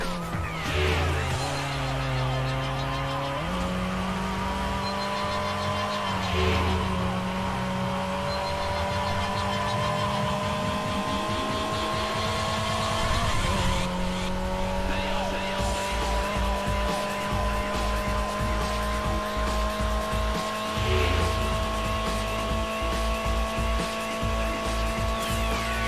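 A Camaro races in the street-racing video game Midnight Club Los Angeles. A loud engine roars and rises through gear changes, with repeated tire squeals and skids, continuous and close for the whole stretch.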